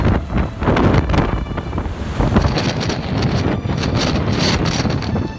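Extremely strong wind roaring steadily into the microphone at a very windy spot, loud and continuous with buffeting gusts throughout and no voices.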